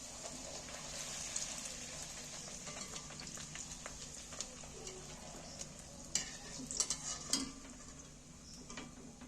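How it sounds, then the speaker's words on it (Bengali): Pieces of dough or potato dropped one by one into hot oil for aloo dum, frying with a steady soft sizzle and bubbling, a few louder crackles and clatters near the end, no talking. "এইবার আমি একটা একটা করে গরম তেলে দিয়ে ভেজে নেব।"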